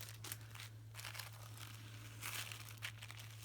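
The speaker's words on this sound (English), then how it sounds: "Sorry about the rustling." Crinkly rustling and crumpling as a bundle of vintage lace is handled, soft bursts of paper-like crackle coming and going close by over a steady low electrical hum, with no talking.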